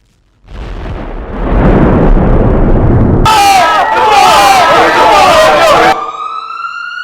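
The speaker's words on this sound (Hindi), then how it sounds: "ये इतना बड़ा धमाका, ये क्या?" A loud, sustained blast-like roar from a staged explosion in a theatre play, followed by a wailing siren and crowd commotion, all close and intense.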